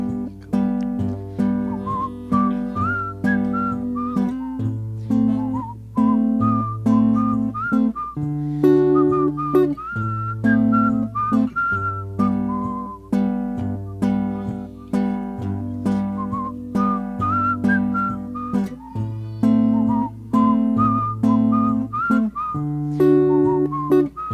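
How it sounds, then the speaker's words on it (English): A person whistles a bright, steady melody of repeating phrases over a soft, regular backing accompaniment. "here comes the whistling part"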